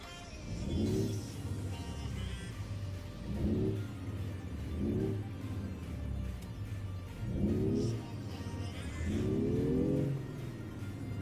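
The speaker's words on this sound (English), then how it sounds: "Ooh, that engine revs a bit high" A Cummins ISX-12 truck engine rated at 825 horsepower revs repeatedly, with five or so rising bursts over a steady low idle rumble, close and fairly loud, with no talking.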